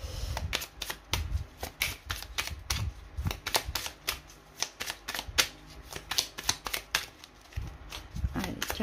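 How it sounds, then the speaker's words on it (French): Tarot oracle cards being shuffled, a steady run of crisp riffling flicks and taps close by, with low indistinct background sound throughout. "On va prendre une petite carte, un petit oracle du tarot pour voir la dominante là, du tirage."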